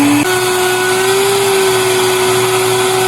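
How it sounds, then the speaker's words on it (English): A Vitamix blender with a small dry-goods container grinding freeze-dried eggs into powder: a loud, steady motor whine that jumps up in pitch just after starting, then holds an even drone close by. "Our Vitamix has this smaller container for dry goods to powder them and grind."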